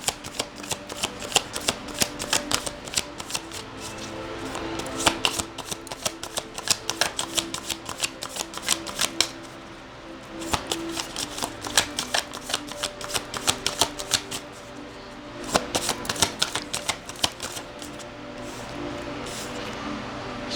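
Tarot cards are shuffled by hand in close, crisp riffling bursts that repeat steadily for about twenty seconds, with short pauses between them and soft background noise underneath.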